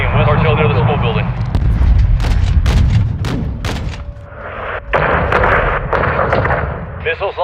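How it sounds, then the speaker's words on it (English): Loud, close bursts of gunfire, incoming missile fire and booming explosions in a military video game, in dense overlapping volleys, with voices talking over the combat. "We've got an incoming missile! Fires away."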